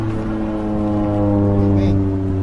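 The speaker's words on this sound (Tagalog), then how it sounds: "Ayun na naman yung aeroplano." An airplane passes overhead above a residential area facing a cemetery, a steady, loud droning hum with strong layered tones that holds continuously and swells slightly toward the end.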